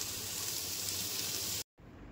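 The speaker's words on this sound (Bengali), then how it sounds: "সেই ভাত ভাজছি" Cooked rice fries in a pan with beans, carrot and capsicum, giving an even, close sizzling hiss that cuts out for a brief moment near the end.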